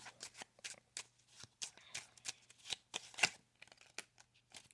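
Tarot cards shuffled and flipped in quick, uneven bursts of crisp riffling and snapping, close and fairly quiet, with a faint steady low hum beneath and no talking.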